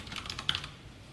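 Short burst of keystrokes on a computer keyboard during a Python coding lesson, a few quick taps with one sharper click, close and fairly quiet, no talking.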